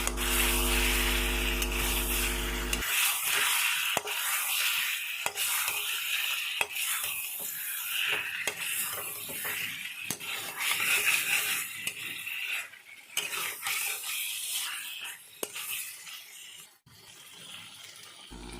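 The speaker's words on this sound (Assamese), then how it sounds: "মছলাখিনিৰ সৈতে ভালকৈ মই ভাজি ল'ম।" Ground masala spices frying in a pan for masala chicken, a steady broadband sizzle with scraping stir strokes and occasional clicks of a spoon against the pan, close and continuous with no talk.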